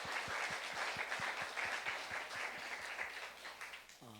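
Church congregation at a Saturday youth worship service applauding: a brief round of rhythmic clapping from a moderate crowd, steady at first and gradually thinning out, ending as a voice begins speaking.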